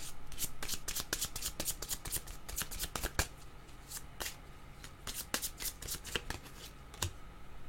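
Playing cards being shuffled at a game table, a run of quick crisp riffles and flicks, close and fairly quiet, with no talking.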